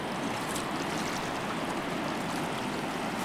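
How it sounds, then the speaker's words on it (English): Roaring whitewater of the Roaring 20s rapids on the Colorado River in the Grand Canyon, a steady dense rushing wash of turbulent water that fills the whole clip, close and unbroken. "This is part of the Roaring 20s rapids."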